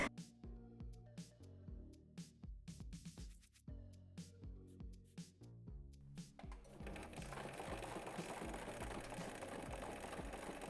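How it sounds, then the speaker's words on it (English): A sewing machine stitches a hem during basic clothing mending, with rhythmic mechanical whirring and clicking that becomes a denser, steadier run in the second half. The machine is close and moderately quiet, with no talking. "Put the needle down, lift the presser foot and turn again so I can sew all the way down to the hemline"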